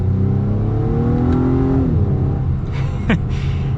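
An Acura TLX A-Spec sedan accelerating on a highway, its engine note rising steadily through a gear with a whooshing cabin drone, then dipping as it shifts and climbs again.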